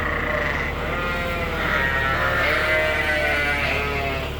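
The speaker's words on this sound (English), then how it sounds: "now has our Dorset ewes that need the haircut and are gonna be breeding." Dorset ewes bleat repeatedly inside a barn, several overlapping calls at close range forming a steady, loud chorus with no talking.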